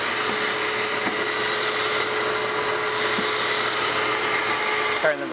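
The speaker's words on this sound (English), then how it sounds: "Turn the vacuum off." A vacuum seeder runs continuously over OASIS Horticubes foam, a steady loud whirring hum with a faint tonal whine, holding level throughout before a brief clatter near the end.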